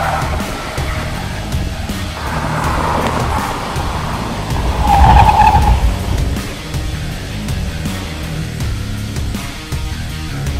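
A Volvo XC60 T4 with Polestar optimisation driven hard on a race track, engine droning steadily close by, rising to a louder surge with a brief tyre squeal midway before settling back.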